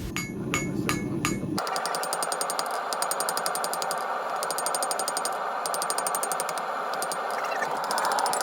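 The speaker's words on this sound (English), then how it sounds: "I'm squaring the next section of the round bar so that it can be twisted as part of the design." A blacksmith hammers a round steel bar square on an anvil with rapid, evenly spaced, ringing blows that run steadily and loudly through the whole stretch.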